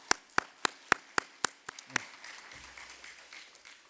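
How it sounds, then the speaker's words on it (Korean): A church congregation gives a short round of applause during an Easter Sunday service after a choir's performance, starting as a few sharp, evenly spaced claps that quickly fade into a soft, scattered patter. "다시 한번 하나님께 영광의 박수 올리겠습니다."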